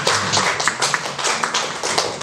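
An assembled audience claps to mark the opening of an activity at a positive-culture school program, a dense, close burst of applause that stays steady for the short span without talk.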